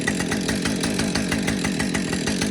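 A repaired chainsaw engine runs steadily at close range, its rapid pulsing buzz continuous with faint rhythmic variation and no voices.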